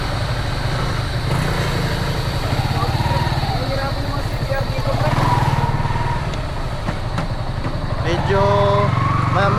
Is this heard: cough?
no